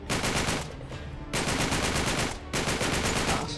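An enemy in Uncharted 3: Drake's Deception fires rapid automatic gunfire in three long bursts with short pauses between them, loud and close, with no speech.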